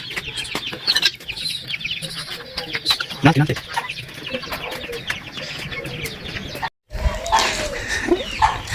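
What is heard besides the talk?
chicks cheeping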